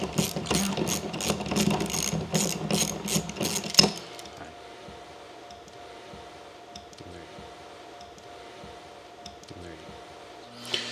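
A ratchet turns a TurboSocket removal socket on a stripped fitting, rapid loud clicking for the first few seconds, then quieter scattered mechanical ticks and handling sounds.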